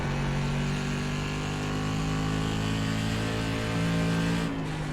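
A race car engine at Stafford in a racing sim holds a steady, loud, buzzing drone close up. Near the end it dips slightly as the throttle eases, with no voices.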